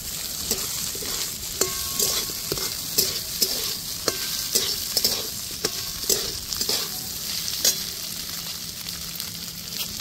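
Chicken being stirred with spices in a pan for chicken bread pakora, repeated rhythmic scraping and knocks of a spoon over a steady sizzle, close and clear.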